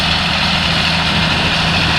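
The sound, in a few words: old tractor engine running while working a field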